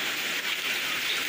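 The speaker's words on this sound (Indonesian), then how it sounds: "sekarang berhubung lagi hujan deras nih guys ya" Heavy nighttime rain pours down in front of a house in a coastal village, a dense, unbroken hiss of drops on surfaces that stays loud and steady throughout.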